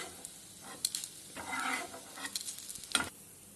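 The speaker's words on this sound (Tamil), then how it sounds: "இப்போ இந்த தேங்காய் பூவை வதக்கிக்கலாம்" Grated coconut sautéing in a pan for a ridge gourd peel chutney, a soft steady sizzle with scraping stir strokes and a few sharper clinks of the spoon against the pan, close and fairly quiet.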